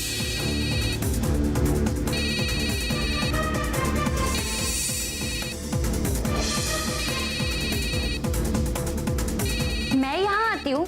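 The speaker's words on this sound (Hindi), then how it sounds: "मम्मा का फोन।" A mobile phone rings for an incoming call, playing a repeating melodic ringtone that is loud and close, with a voice speaking over the tail end.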